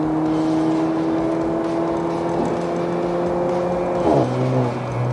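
A station wagon fitted with Air Lift Performance air suspension and an opened exhaust valve accelerates hard. The engine drone climbs steadily and loud, then shifts sharply near the end as a gear changes.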